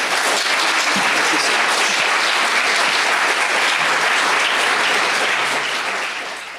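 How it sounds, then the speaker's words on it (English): Dense, steady applause from a festival audience honouring a panel of authors at the Vancouver Writers' Fest, sustained for several seconds and tapering slightly at the end. "Another round of applause for them, please."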